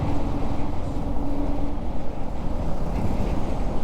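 A train rumbles past near a roadside, a steady low heavy roar with wind buffeting, heard from a moving MT-15 motorcycle on the ride home from Nellore.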